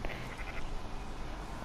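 Goats bleat faintly from a farm pen at Emerald Ranch in Red Dead Redemption 2 Online, short wavering calls sitting within a dense, noisy ambient background.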